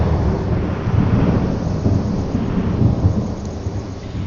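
Thunder in the horror video game Insomnia, a low sustained rumble over steady rain that rolls on without a sharp crack, fairly loud and unaccompanied by speech.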